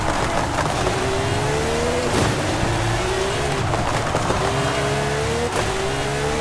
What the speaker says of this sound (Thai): โอ้เบรกเต็มแรงครับ ตรงนี้